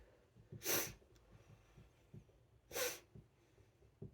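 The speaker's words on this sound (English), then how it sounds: "I should stop sniffling" Two sharp, wet sniffles about two seconds apart, close to the mic, with soft breathing and quiet background in between.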